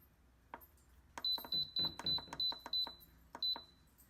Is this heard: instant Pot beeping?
yes